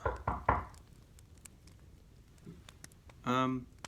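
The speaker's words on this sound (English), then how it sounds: "Peter, open the door." Three loud, heavy knocks on a door come in quick succession, close and resonant, followed by a quiet room with faint clicks and then a brief voice.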